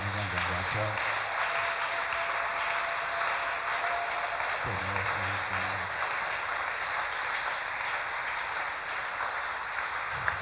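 Worshippers at a thanksgiving church service clap for the Lord, a steady wash of applause throughout, with voices and tones rising over it near the start and midway.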